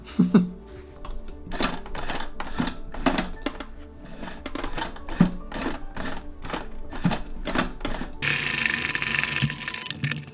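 A sewing machine clatters in quick, uneven bursts of stitching a bucket hat from upcycled clothing, close and fairly loud, then settles into a steadier, brighter mechanical whir near the end.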